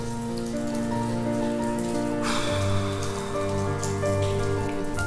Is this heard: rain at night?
yes